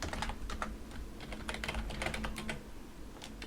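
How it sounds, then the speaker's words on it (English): Quick, light typing on a computer keyboard while writing C++ code, a close, dense patter of key clicks in uneven bursts, with no talking. "Why am I typing that out?"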